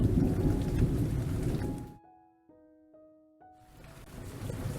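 Storm at sea with heavy rain and rumbling thunder, loud and dense, cutting out abruptly into a short stretch of sustained tonal notes before the rain noise returns.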